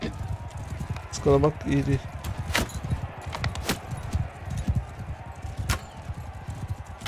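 Galloping horses in the Mount & Blade II: Bannerlord video game, a fast, steady drum of hooves close by with sharp impacts, while someone talks over it.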